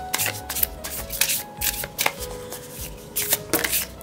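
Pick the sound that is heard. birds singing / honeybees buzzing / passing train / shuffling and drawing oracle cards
shuffling and drawing oracle cards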